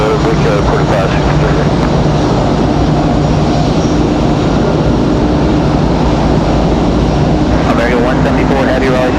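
An airliner at Raleigh-Durham International thunders in a continuous loud engine roar down runway 5 left on takeoff, with a radio voice heard briefly over it.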